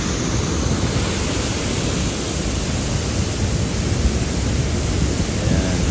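Nugget Falls at Mendenhall Glacier roars as a steady, loud broadband rush of falling water, heard close to the base of the falls, continuous with no pauses.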